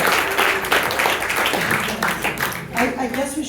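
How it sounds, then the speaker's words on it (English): Applause ripples through the crowd at a film screening Q&A, steady clapping mixed with voices and cheers, fairly close and full for a few seconds. "Please stand, David, for a round of applause."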